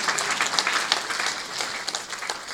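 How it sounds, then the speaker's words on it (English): A live audience applauds at a formal address in Jamaica, steady clapping filling the room for a couple of seconds with no voices over it. "please give yourself a round of applause"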